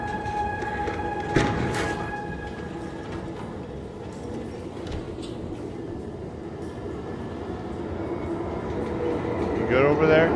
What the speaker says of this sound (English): Stand by for train transport.